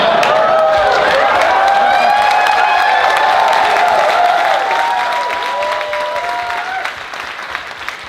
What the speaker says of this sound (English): So we just needed a shot of me coming out to applause.